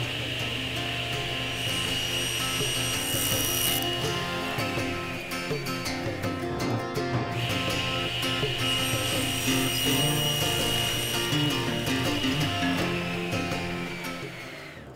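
A saw cuts a wooden back panel to size for a table tennis paddle and ball holder, giving a continuous, close, rasping cut that briefly falters midway before resuming and fading at the end.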